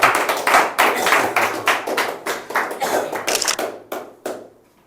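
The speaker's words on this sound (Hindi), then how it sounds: "जोरदार तालियां।" Audience clapping at a tea business training session, a dense burst of hand claps with uneven thumping peaks that fade out over about five seconds, with no talking.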